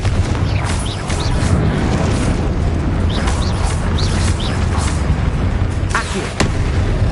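Confringo fire-spell explosions in the video game Hogwarts Legacy rumble as loud, continuous booming blasts. Sharper bursts and pops cut through the heavy low roar of combat, with no spoken voice.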